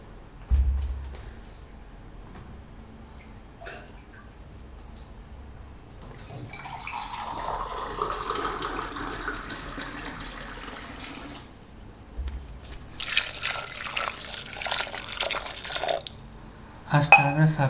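Water pours into a pot holding dal and garlic, a continuous splashing gush that swells partway through and later turns to brighter, busier trickling, with a few clunks of the vessel at the start and end.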